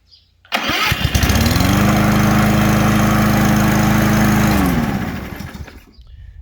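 A Craftsman M270 push mower fires up on its push-button electric start, catching almost at once and running at a loud, steady drone close by for several seconds before dying away.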